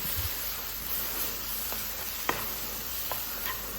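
Chicken cooking with masala powders in a pan, a low steady sizzle with a few soft spoon taps and scrapes as it is stirred, close but quiet, with no talk.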